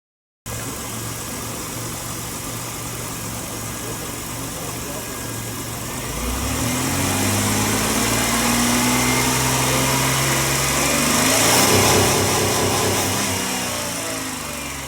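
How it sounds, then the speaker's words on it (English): Buick car engine idling with a steady hum, then revved up toward redline, its pitch climbing and rising louder mid-clip before easing back down, heard close up in a workshop lab. "revving the engine while getting a reading"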